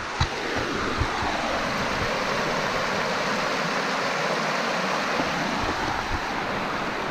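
Water rushes and splashes steadily in a constant broad hiss from a small tiered waterfall on a stream in Loyalsock State Forest, close by and without speech.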